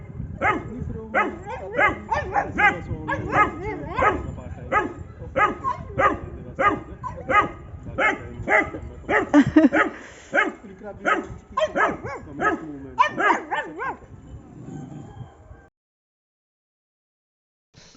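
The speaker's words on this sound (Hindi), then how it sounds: "भौंक दो, भौंक दो" A dog barks repeatedly in quick, rhythmic bursts at close range, dozens of sharp yelps over several seconds before falling silent.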